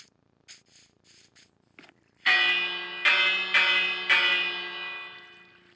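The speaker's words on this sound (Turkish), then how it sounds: "Şu zili çalalım." A few faint taps and clicks, then a village bell in Minecraft struck four times, each ring bright and resonant, decaying into the next.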